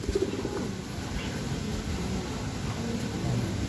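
A racing pigeon coos in low, soft murmurs beneath a steady broadband hiss of wind or noise, near but partly masked, with no speech.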